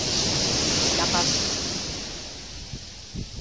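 Steady broadband rush of strong surf washing in at a beach, loud and continuous, with a faint voice or two near the end.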